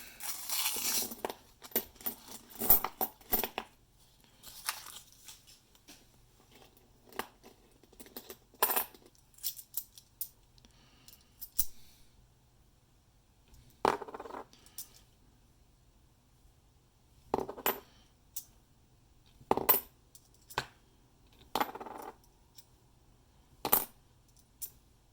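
Rolls of $1 coins being opened, with scattered bursts of coins clinking and spilling onto a surface between quiet gaps, crisp and close.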